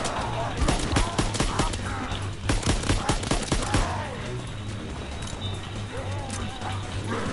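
Rapid bursts of video game gunfire crackle through the first half, with dense volleys of shots and a steady low hum underneath, tapering into quieter game ambience later; a voice talks over the firing.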